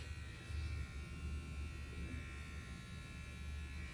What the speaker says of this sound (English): I'm gonna go over my face really quickly too, because this is usually what I shave my face with